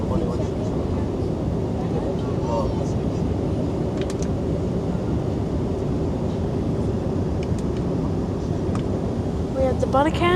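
Qatar Airways Airbus airliner on approach to London Heathrow, a steady broadband roar of engines and airflow throughout, with faint chirps and clicks on top.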